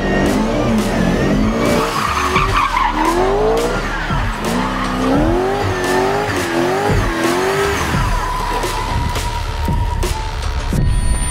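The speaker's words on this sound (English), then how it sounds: "So now it's a time for a burnout." A drift car does a burnout, its tires squealing loudly and continuously with a wavering pitch over a steady engine roar for about eleven seconds.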